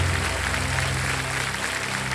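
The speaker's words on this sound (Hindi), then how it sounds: "तालियां बज जाए" A studio audience on the Kaun Banega Crorepati quiz show set breaks into steady, full applause that stays loud and even throughout.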